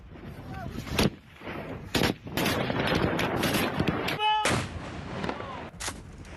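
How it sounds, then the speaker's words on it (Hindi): Gunfire rings out during fighting in Panjshir, with several sharp, loud shots and bursts, including a rapid volley, spaced irregularly over rumbling background noise. "पंजशीर में फायरिंग की आवाज आप सुन रहे होंगे"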